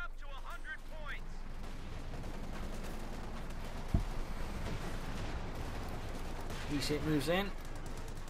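A Panther tank's pin machine gun fires during a Company of Heroes 2 battle, heard as steady rattling gunfire and a sharp blast under continuous excited commentary.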